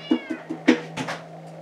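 A cat meows in a garage during engine work on an LQ9 bottom end, giving a few short, close calls in a quick row over a steady electrical hum.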